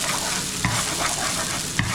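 Onions fry in a pan for eggplant adobo with ground pork, giving a loud, steady sizzle with a couple of scraping stir strokes, close and continuous.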